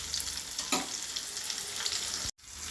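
Fish pieces fry in a pan with a continuous, close sizzle and light stirring clatter, cut by a short silent gap near the end, and no one speaks.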